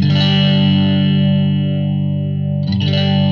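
Electric guitar played through a Blackstar ID:Core V4 amplifier with its modulation effect on, a loud sustained distorted chord swirling and wavering, fading slowly before a fresh chord is struck near the end.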